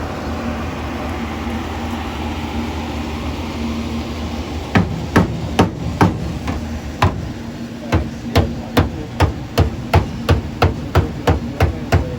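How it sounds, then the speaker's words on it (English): A hammer strikes metal in a shop during race-car nitrous system work, a quick run of sharp, loud, evenly spaced blows beginning partway through over a steady background hum. "Alright, find a hammer."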